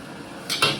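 Stir-fried Lianzhou choy sum being scooped out of a wok: two quick metallic scrapes of a utensil against the pan, close and brief, after a quiet moment.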